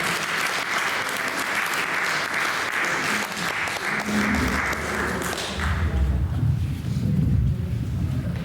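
A crowd at a poetry reading applauds in a dense, sustained wash of clapping that carries on throughout, with a low rumble building toward the end.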